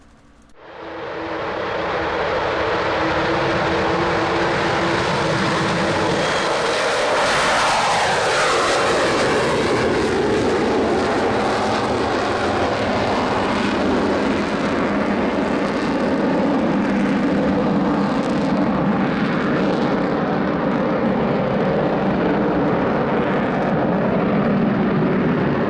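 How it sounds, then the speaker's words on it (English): An Avro Vulcan jet bomber roars overhead, a loud, sustained engine blast that swells and sweeps in pitch as it passes close by, then holds as a dense continuous rumble and whine. "The Avro Vulcan is also a highly manoeuvrable aircraft, surprisingly"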